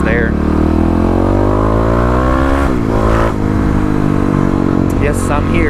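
Engines rev and accelerate as vehicles, including a Dodge Charger R/T with a Hemi V8, race past on a street, heard from a motorcycle rider's perspective under steady wind and engine noise, with a brief swell midway.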